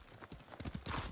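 Quick, close hoof clip-clops patter in an uneven rhythm, a horse moving at a trot in Ghost of Tsushima.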